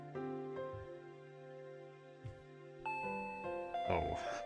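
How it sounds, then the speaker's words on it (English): A doorbell rings in the Higurashi visual novel game. Its chime tones ring out clearly over a quiet background, and a fuller burst of sound follows near the end. "Doorbell."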